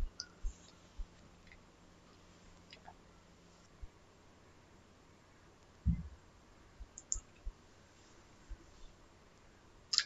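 Sparse, crisp computer mouse clicks sound while working in EAGLE PCB design software, single and double taps scattered across a quiet room with a soft background hiss.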